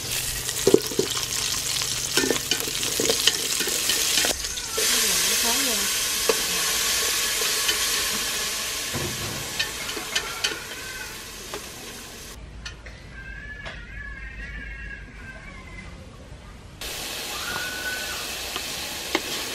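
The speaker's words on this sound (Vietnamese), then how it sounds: "bây giờ vợ mình sẽ phi tỏi xả" Garlic and lemongrass fry in oil with a steady, loud sizzle and stirring, while a cat meows several times nearby.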